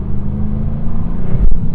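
Low, steady engine rumble from a 2024 Jaguar F-Type R75 with a supercharged V8 under hard acceleration, heard from inside the car, swelling slightly toward the end with a brief thump.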